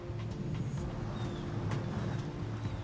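Tidal bore surging up the River Severn some 200 to 300 metres away, a steady low broadband roar with a continuous rushing wash and no clear peaks, heard alone in the open air.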